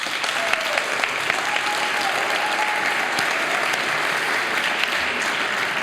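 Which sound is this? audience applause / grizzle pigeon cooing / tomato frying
audience applause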